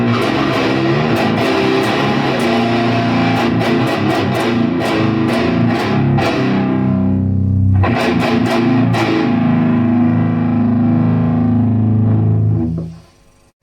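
Electric guitar played through a Demon Overdrive TS9/TS808-style overdrive pedal, gritty sustained chords with a short pause midway, ringing out loud before fading at the end.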